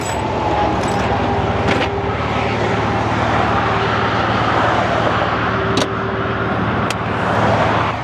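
A Porsche 911 Turbo being driven with faulty brakes gives a loud, steady engine drone and road rumble heard from inside, with only a couple of faint ticks over the continuous noise.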